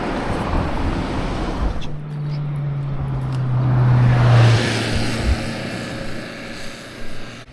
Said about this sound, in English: Love those little K-trucks, eh?